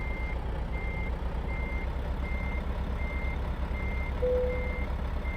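Reversing beeps from a semi truck backing up in American Truck Simulator: a steady, evenly spaced series of about eight high beeps over a constant low engine rumble, with no talk.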